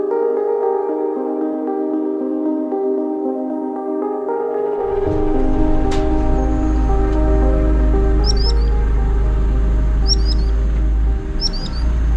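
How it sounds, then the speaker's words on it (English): Small birds chirp in brief, repeated high tweets, a few evenly spaced calls over a loud steady rumble of engine or wind noise. "sweet little birds here. They're having their nest somewhere down by that river."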